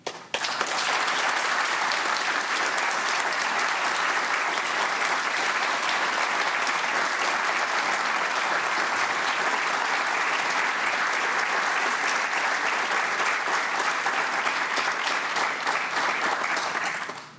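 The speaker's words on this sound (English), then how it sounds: "indulge me in another round of applause for Karen" An audience at a professorship celebration claps in a long, sustained ovation, thick and even throughout, fading in quickly and holding steady without speech.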